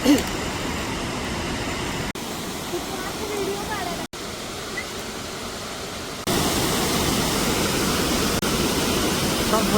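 Broad, steady roar of a monsoon waterfall at Nanemachi in the Sahyadri hills, heard from a distance and filling the whole clip, growing louder and fuller partway through as the view opens up.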